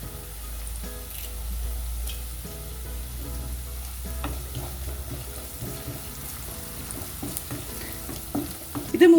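Beef stew masala with curry leaves sautés in a pan, a steady low sizzle with occasional stirring scrapes, and a brief clatter at the end.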